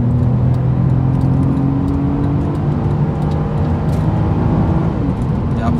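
Audi TT MK1 with a 3.2-litre V6, automatic gearbox and quattro drive, a steady loud engine drone and road roar that holds throughout, with a voice talking over it.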